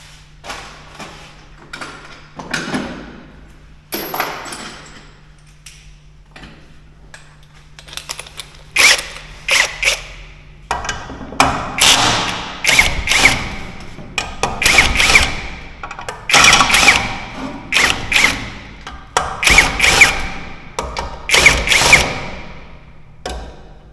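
A cordless power tool fitted with a socket bit works on a scooter's variator, giving repeated close, loud bursts of mechanical whirring and clattering after a quieter stretch of light tapping and handling noise.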